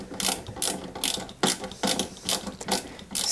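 A screw on a 1/8-scale Citroën 2CV AZLP model is tightened with a ratcheting tool, giving close, repeated clicking bursts in an irregular rhythm.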